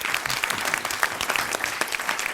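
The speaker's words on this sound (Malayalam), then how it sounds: "മേശിരിക്ക് നല്ലൊരു കയ്യടി." An audience gives a steady round of applause for a mason at a comedy stage show, continuous dense clapping throughout with no talking.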